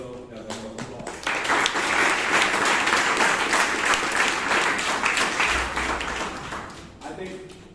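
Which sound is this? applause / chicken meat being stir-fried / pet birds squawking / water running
applause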